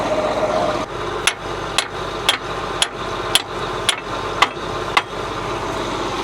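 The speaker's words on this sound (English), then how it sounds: "I just had to get the hammer out for the video." A hammer strikes a John Deere engine about nine times at a steady, roughly half-second rhythm, each sharp metallic clank standing out close and loud over the engine's continuous idling drone.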